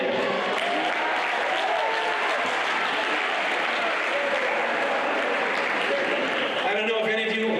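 Audience applauding at a university talk, a sustained dense burst of clapping from many people, with a voice starting to speak over it near the end.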